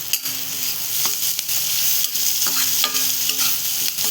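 Green chillies fry in a pan for a drumstick-leaf (moringa) vegetable dish, a steady close sizzle with scattered stirring scrapes and clicks throughout, no voices.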